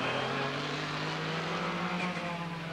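A 1991 IMSA GTP prototype race car at Lime Rock roars loud and close as it comes off around 155–160 mph and brakes hard into turn one, its engine note steady with a slight pitch shift.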